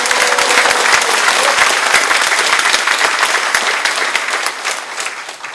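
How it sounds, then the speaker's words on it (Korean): Warm applause from a crowd at a Seongnam political rally, dense steady clapping close and loud throughout, thinning slightly toward the end. "이 자리에 나와 주신 모든 분들 서로가 격려해주는 의미에서 뜨거운 박수 한번 서로 쳐드립시다"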